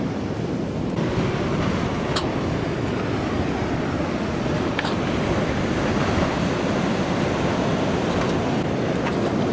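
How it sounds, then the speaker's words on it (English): Ocean swell rolling past an anchored sailboat, a steady broadband wash of surf and wind noise lasting throughout, with a few faint clicks and creaks from the boat; no talking. "So we're just watching these waves come through."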